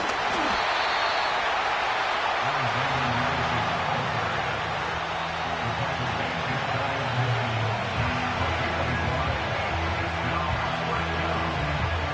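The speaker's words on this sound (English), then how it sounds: "Getting hard to hear in here. The noise very loud from the crowd." A loud American football stadium crowd roars continuously, a dense wall of cheering voices with a low rumble underneath.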